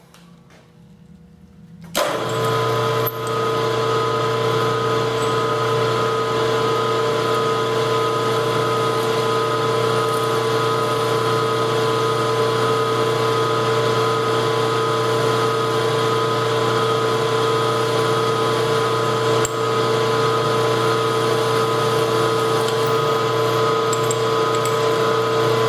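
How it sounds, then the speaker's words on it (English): A milling machine runs steadily while drilling a hole in metal, a loud continuous motor hum with whining tones starting abruptly after a quiet moment and holding unchanged throughout. "Okay, so we're going to drill that first hole."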